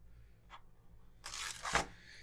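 A sticker is peeled off a new, inexpensive, quiet Bluetooth keyboard, with a brief faint rip followed by a louder, crackly tearing pull up close.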